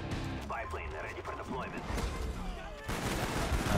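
Gunfire in the Wii version of Call of Duty: Black Ops, with bursts of shots and crashes in a chaotic firefight under a player's voice and game chatter.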